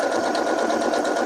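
A Janome sewing machine stitching ribbon in a steady, continuous close-up whir, running alone without pause.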